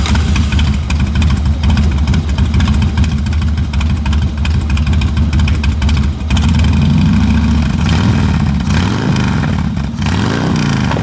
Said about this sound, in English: I'm a big fan of the Harley potato idle. Let's see if we got it. Also let you hear what this Trask exhaust sound like.